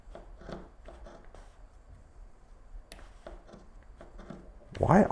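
Scissors cut through thick denim jeans, making a series of short crunching snips and rasping chews, close and moderately loud, with a louder rustle of fabric handling near the end.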